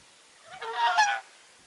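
A male goose gives a short, loud honking call with a few rapid nasal notes, close by, lasting about half a second, with quiet surroundings before and after.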